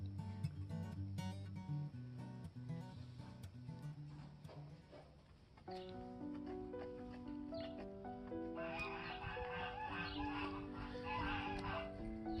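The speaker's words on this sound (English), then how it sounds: "Here in the background I got geese and ducks and chickens and guinea fowl and dogs" A busy chorus of farmyard fowl, geese honking with ducks, chickens and guinea fowl cackling, overlapping continuously at moderate distance.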